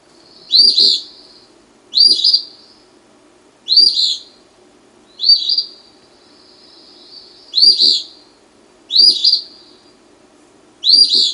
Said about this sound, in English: Here's another bird that says its own name, the eastern phoebe